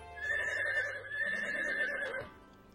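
A horse, a mare, gives a long, clear whinny that wavers for about two seconds before fading out, loud and close with no voices around it.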